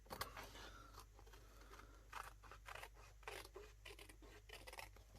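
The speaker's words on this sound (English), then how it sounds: "And then just take your snips" Hand snips cutting around patterned designer series paper to decorate an envelope, giving a quiet series of soft scratchy snips and rustles in an uneven rhythm over a low background hum.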